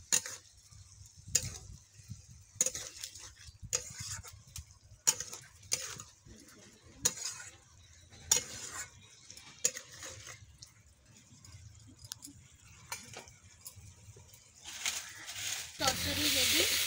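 Cauliflower stalk curry being stirred in a pan, with sharp, irregular scrapes and clacks of a spatula against the metal among quiet gaps, ending in a louder burst of sizzling.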